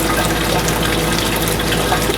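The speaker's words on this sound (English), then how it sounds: "So let's add nice fresh snow water." Fresh melted snow water pours into the radiator of a 1944 2N tractor in a loud, steady, gushing stream, close by and continuous, with no talk.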